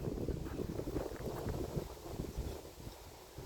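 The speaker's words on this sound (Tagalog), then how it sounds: "Kasi super lakas ng hangin. Nakita nyo? Narinig nyo ang hangin?" Strong cold wind at a South Korean tourist spot buffets the microphone in a steady low rumbling roar with gusty fluctuations and no voices.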